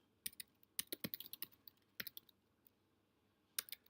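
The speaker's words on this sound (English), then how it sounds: "So another change, save it, close it, and I'll just type here git." Typing on a computer keyboard is heard close and quiet, with irregular bursts of crisp key clicks, a flurry in the first half, a pause, then a few more taps.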